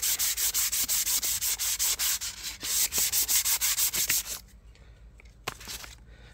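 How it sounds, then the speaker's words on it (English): A wooden tabletop is rubbed with 240-grit sandpaper in quick, regular back-and-forth strokes, close and steady, before the rubbing stops and only a few faint scrapes remain. "I got some 240 sandpaper and I'm just gonna rub my wood with some sandpaper"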